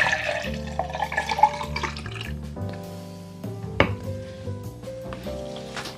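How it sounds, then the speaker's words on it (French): A Piña Colada cocktail mixture is poured into a mixing glass, giving liquid splashes and a ringing glassy clink, with a sharp knock partway through and a rising pitch as the glass fills. "Vous transvidez tout dans votre verre à mélange."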